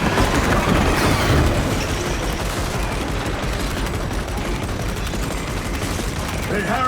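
Tyranid bombardment in Warhammer 40K Space Marine 2 comes as a continuous loud fusillade of rapid gunfire and crackling impacts, with a heavier burst at the start, and voices heard under the barrage.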